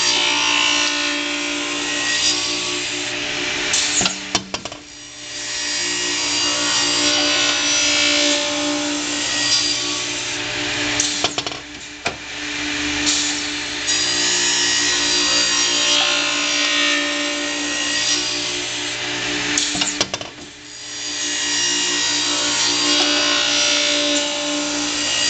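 A WedgeSaw cutting a wooden board as it is fed through gives a loud, continuous sawing roar that drops away briefly three times between passes. No one speaks.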